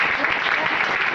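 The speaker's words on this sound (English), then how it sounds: "let's give Charlie and Gareth a round of applause" Audience applause at a tech conference chat session in London, a short dense burst of clapping filling the whole moment at steady strength.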